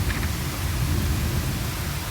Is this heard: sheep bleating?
no